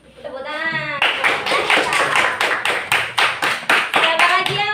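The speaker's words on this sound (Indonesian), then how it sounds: "Tepuk tangan." A class of students claps hands together in rhythmic, fairly loud unison beats, several sharp claps in a row, with a teacher's voice heard just before and voices around it.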